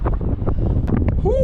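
Strong wind buffets a climber high on a factory chimney at an abandoned steelworks, roaring steadily and loudly close to the microphone, with brief muffled noises in between.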